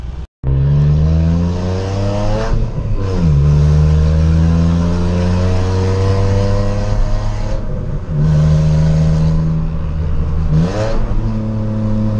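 A Hyundai HB20 1.0 engine revs again and again with its exhaust valve open, a deep, loud exhaust roar, each rev climbing in pitch and then dropping back, close by with no voices.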